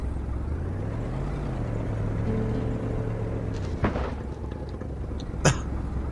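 Car engine in the video game Kona, a low droning hum that rises and settles in pitch, followed by a couple of sharp knocks near the end.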